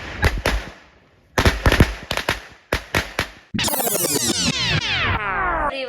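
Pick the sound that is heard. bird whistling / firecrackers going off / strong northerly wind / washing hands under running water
firecrackers going off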